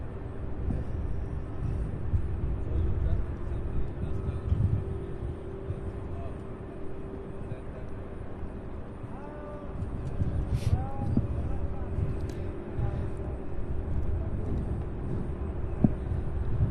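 A Boeing 767 and two Airbus A300s taxiing at Louisville International Airport near the UPS Worldport, a low steady engine rumble and hum from the distance with a faint whine, a few brief chirps, and no speech.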